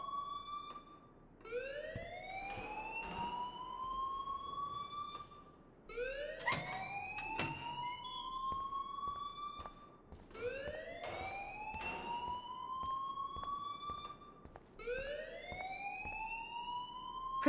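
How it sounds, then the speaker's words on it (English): A school alarm in the video game Life Is Strange wails in repeated rising sweeps, each lasting about four seconds, steady and continuous with no talking. "please turn off that alarm since that's your job"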